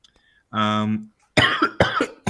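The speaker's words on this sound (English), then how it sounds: "Sorry, I'm going to cough" A single harsh cough bursts out after a brief quiet pause, followed by someone talking close to the mic.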